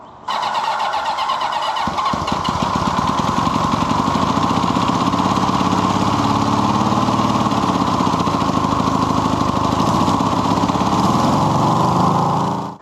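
A 1979 Honda CB750 motorcycle with a slight fuel leak cranks and catches, then runs loud and steady with a rattling, buzzy idle for several seconds before cutting off abruptly.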